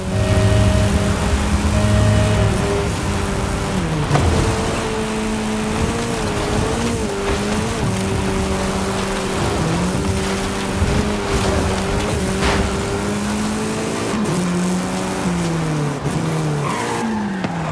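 Engine of a Hoonigan RS200 car in a racing video game, a loud continuous roar rising and falling with shifts and revs, with bursts of tire squeal and skidding throughout.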